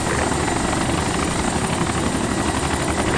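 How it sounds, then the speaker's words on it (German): A helicopter in the military video game Arma roars constantly and loudly, its dense rotor thrum and engine whine filling the whole moment without a break. "Ich sehe den Hubschrauber gleich schon runtergehen"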